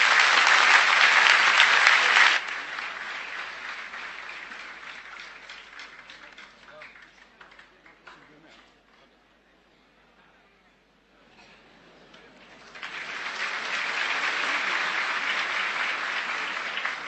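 Audience applause for a guest speaker at a talk, loud and dense at first, thinning to scattered clapping and near silence, then swelling back into a second full burst of clapping.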